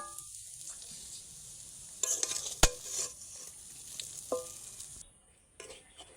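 Semolina dough is stirred in a pan until it firms up, producing close scraping and soft sizzling with a few sharp clinks of the utensil against the pan, and no one speaking.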